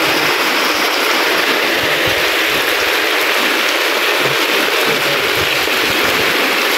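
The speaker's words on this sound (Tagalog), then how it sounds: "Nabutan na kami ng malakas na ulan dito sa bahay na" Heavy rain pours down steadily on a house, a loud, dense, unbroken hiss of water with no voices over it.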